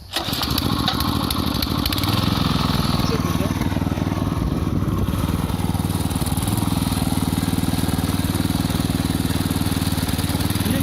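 Garden irrigation water pump engine running steadily at high revs, loud and close, with a constant droning hum and no breaks throughout.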